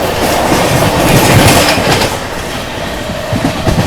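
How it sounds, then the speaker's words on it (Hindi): CR Rajdhani Express overtaking the Grand Trunk Express near Bilochpura, heard as a loud, close, continuous rush of rolling train wheels with rhythmic clickety-clack over the rails, no voices. "बिलोचपुरा में अपनी CR राजधानी एक्सप्रेस ओवरटेक करने जा रही है न्यू दिल्ली से चलकर MGR चेन्नई सेंट्रल की ओर जाने वाली ग्रैंड ट्रंक एक्सप्रेस को।"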